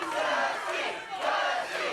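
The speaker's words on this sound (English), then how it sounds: "They're cheering for Dusty." A wrestling arena crowd roars and cheers loudly in continuous swelling waves, a dense wall of voices with no single speaker standing out.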